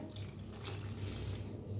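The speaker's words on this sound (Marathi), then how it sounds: "भांड्यात पाणी घेऊन ओतूया ह्याच्यात." Running water is poured from a vessel into a pan of palak paneer, pouring and splashing steadily for a couple of seconds, fairly close and continuous.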